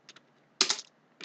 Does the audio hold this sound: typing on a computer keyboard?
yes